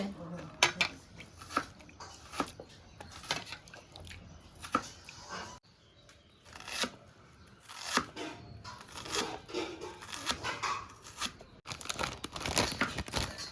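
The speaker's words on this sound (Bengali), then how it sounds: "পাউরুটির এই ব্রাউন অংশটা আমি দেব না, এটা ছিঁড়ে ছিঁড়ে রেখে দিচ্ছি।" Brown crust being torn by hand off slices of bread for chicken cutlets, repeated soft ripping and crinkling bursts at close range, uneven in rhythm, with a brief quiet gap midway.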